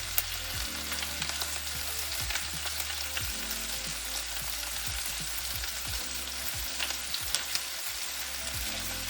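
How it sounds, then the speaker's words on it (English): Chicken drumsticks frying in a pan for chicken adobo give a steady, close sizzle with small pops and crackles throughout, with no voices. "And listen to that sizzle."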